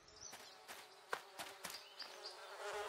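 Cartoon bees buzz in a light, wavering hum, joined by several sharp clicks and taps on top.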